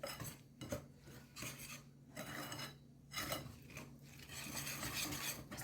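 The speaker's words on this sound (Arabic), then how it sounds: "كنخلطوا مزيان المكونات كامله بالفوي." Brioche ingredients, including pastry cream and sugar, are whisked in a bowl, producing faint, rhythmic scraping and rubbing strokes that come in repeated bursts with short pauses, with no talking.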